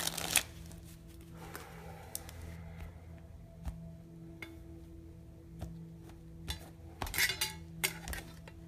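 Rider-Waite tarot cards being shuffled close by in a quiet room, a run of soft papery riffles and slaps in bursts with short pauses between them.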